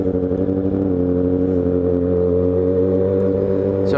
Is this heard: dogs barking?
no